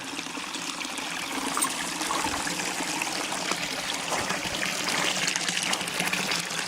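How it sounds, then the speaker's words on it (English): Cold spring water runs steadily out of a spring box, a constant close gushing and trickling rush with no pauses or voices. "here's the view of the spring"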